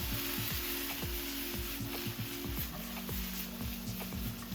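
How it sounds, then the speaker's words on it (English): Onions sizzling and frying in a hot pan alongside kebab meat, a steady loud hiss with scraping clatters as they are tossed and stirred, no talking. "Give our onions a little toss here."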